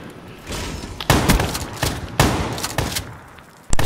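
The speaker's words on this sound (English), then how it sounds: "Shotgun versus shotgun." Shotgun blasts from a KRM-262 in Call of Duty: Black Ops III, several loud, sharp reports spaced about a second apart, each with a short ringing tail, nothing else heard beneath.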